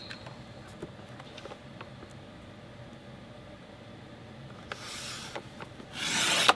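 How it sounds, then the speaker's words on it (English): A quarter inch trimmed off a piece of wood, heard as quiet scraping and rubbing that builds into two louder bursts of rasping cut noise near the end, close by and with no talk. "we're going to cut 1/4 inch off of this"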